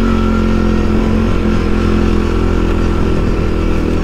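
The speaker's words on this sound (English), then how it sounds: "let's run it in four-wheel drive on the trail and see how it steers in comparison to two-wheel" A CFMOTO CFORCE 400 ATV running in four-wheel drive along a trail gives a steady, close engine drone with light mechanical clatter, holding an even pitch throughout with no speech.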